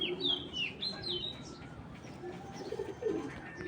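Club pigeons coo close by in low, brief rolling calls, mixed with higher chirps and twittering early on, over a quiet background.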